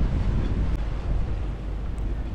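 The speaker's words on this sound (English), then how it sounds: "The wind picked up, and it is now blowing over 25 knots" Strong wind over 25 knots roaring steadily across the microphone aboard a sailboat, a dense low rumble with faint water wash beneath, no voices.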